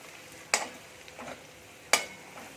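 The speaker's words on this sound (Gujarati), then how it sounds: "આપણે જે પેસ્ટ બનાવીને રાખી છે એ લઈ લઈશું લસણની આ રીતમાં થોડીક તેલમાં આપણે એને સાતરી લઈશું" Garlic paste sautéing in a little oil makes a quiet sizzle under two crisp spatula scrapes on the pan, about a second and a half apart.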